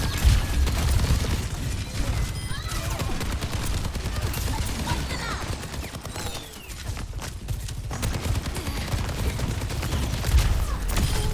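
Rockets and gunfire in Overwatch 2 erupt in rapid bursts of shots and booming blasts, dense and continuous with a few brief lulls, heard close and loud throughout.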